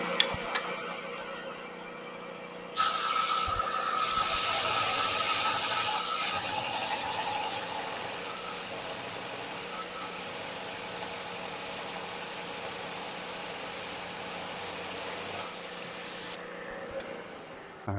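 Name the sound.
annular cutter milling vise jaw material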